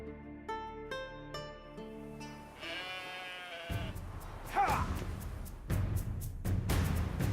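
Sheep bleat during a ritual goat and sheep sacrifice scene in The Witcher 3: Wild Hunt, with a few drawn-out calls early on, then heavier game ambience and music-like layers building underneath.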